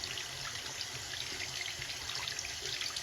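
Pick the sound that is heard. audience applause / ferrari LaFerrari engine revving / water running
water running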